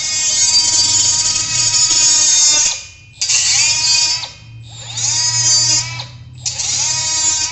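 A Milwaukee power saw cuts a metal tie-down rail in a garage, a loud, close, high whining grind that runs in four long passes separated by brief pauses.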